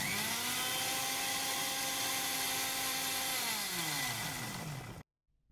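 A kitchen mixer grinder whirs loudly and continuously while grinding green chickpea chutney with yogurt, its motor pitch sliding down before it stops abruptly.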